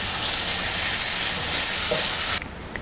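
A quail roast cooks and sizzles in a pan over medium flame, a steady bright frying hiss with occasional stirring, close and continuous before dropping abruptly near the end; no voices.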